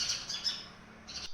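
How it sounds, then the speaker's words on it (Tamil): A mother sparrow calls loudly and repeatedly near a nest, a run of bright, close squawks and chirps with short gaps between bursts. "அதோட பெரிய குருவி வந்து கத்திகிட்டே இருக்குது."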